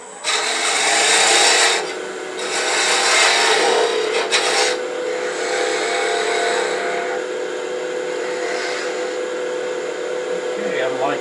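A skew chisel taking peeling cuts on wood spinning on a lathe gives a steady, loud rasping hiss with a motor hum beneath, easing in intensity a few times.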